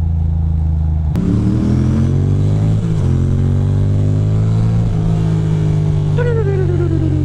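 A car cruising along a road, its engine a steady, loud drone that shifts pitch through several gear changes and small accelerations, heard close from inside, with no talk over it.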